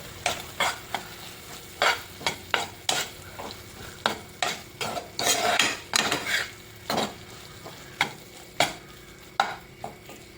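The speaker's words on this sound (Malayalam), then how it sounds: "നമുക്കൊന്ന് എല്ലാം കൂടെ ഒന്ന് മിക്സ് ചെയ്തെടുക്കാം കേട്ടോ" Egg scrambled with dosa for kothu dosa sizzles in a pan as a metal utensil chops and stirs, giving a string of sharp, irregular clanks and scrapes over a faint background sizzle, close by and without speech.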